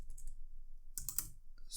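Computer keyboard keys are typed in short clustered bursts while entering an FTP command, crisp close clicks with a pause in the middle and no talking.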